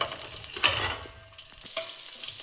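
A small batch of sliced onion fries in a pan, a soft continuous sizzle broken by a few clinks and scrapes of a spoon stirring, close and fairly quiet with no voices.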